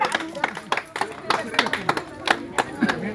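Scattered hand claps from a crowd at a village rangoli competition prize announcement, sharp uneven claps over a few seconds mixed with nearby voices.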